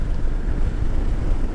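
Strong wind buffets and roars steadily, loud and close, with a low rumbling drone throughout.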